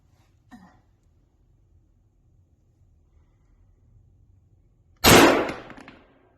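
A single loud rifle shot cracks close by near the end, its sharp blast trailing off in a brief echo, preceded by a small click and near silence.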